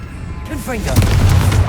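A Confringo fire spell cast in the video game Hogwarts Legacy lands as a single loud, booming blast after a brief rising whoosh, with a voice sounding around it.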